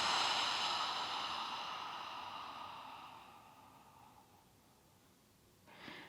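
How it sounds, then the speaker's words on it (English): A slow, gentle exhale during a relaxation stretch, starting as a loud breathy rush close to the ear and fading steadily over several seconds, followed by a short soft inhale. "And let the breath go."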